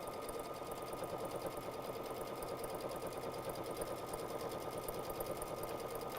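A sewing machine stitches a tote bag in one unbroken run, its needle hammering out a fast, even whir that stays close and steady throughout, with no one talking.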